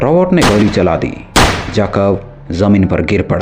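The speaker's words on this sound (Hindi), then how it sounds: "रॉबर्ट ने गोली चला दी।" A single sharp pistol shot cracks out as a sound effect in a Hindi crime horror story. It comes briefly amid continuous narration by a voice speaking before and after it.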